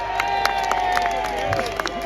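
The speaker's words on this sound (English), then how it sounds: "Give a massive round of applause for my friend and your friend, Peter McElvenna." Outdoor crowd at a political rally in London cheering and clapping, a steady roar with whoops and scattered claps.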